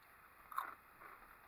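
A single quiet crunchy bite into well-done fries from a burger restaurant, one short crisp crunch followed by faint chewing, with no talking.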